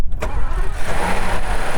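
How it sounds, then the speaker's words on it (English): A Rolls-Royce 6.75 litre twin-turbo V12 cranks and catches with a quick burst, then settles into a smooth, loud, steady idle close by. "Start the car."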